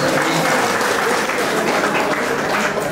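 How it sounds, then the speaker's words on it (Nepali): Steady applause from the audience at an award and honour ceremony for foreign-employment workers in Lahachok, many hands clapping evenly for the whole stretch, fairly close and full, with no voices over it. "तपाईँहरूलाई आग्रह गर्न चाहन्छु बिना हिचकिचाउ एकपटक ताली बजाएर उसलाई आशीर्वाद तपाईँहरूले दिनुहोस्"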